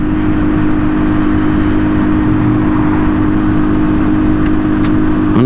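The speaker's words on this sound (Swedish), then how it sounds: "Jävlar, den där bilen." A car passes along the road close by, its steady mid-range engine drone and tyre roar filling the whole stretch loud and unbroken, with no talk over it.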